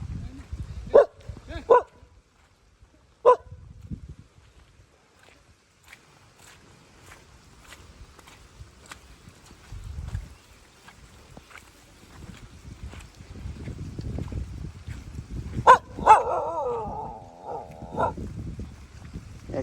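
A village dog barks in a few sharp, separate bursts early on, then further barks sound over footsteps and outdoor rustle, with a louder cluster near the end.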